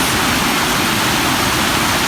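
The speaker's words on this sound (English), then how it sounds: "Even the river is back up" A river running high again after a storm, its banks refilled and carrying floating debris, gives a loud, steady broadband rush of flowing water, continuous and close with no voices.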